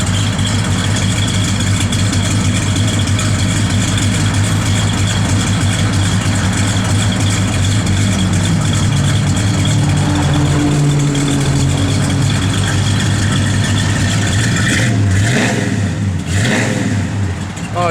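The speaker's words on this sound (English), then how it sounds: "Car sounds great." A 1966 Plymouth Satellite V8 idles with a steady, loud, rumbling burble close by, with a brief blip of the throttle near the end.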